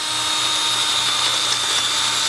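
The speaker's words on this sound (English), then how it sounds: "then we're going to drill through" A power drill with a 23/64 bit bores through a motorcycle fairing mount, a steady loud high-pitched whine held close for the whole stretch with no talk.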